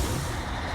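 A truck in SnowRunner backs up a dolly trailer with rear wheel steering, a loud, steady, broadband engine and air hiss filling a brief moment.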